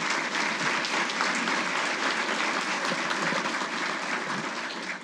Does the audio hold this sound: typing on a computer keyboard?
no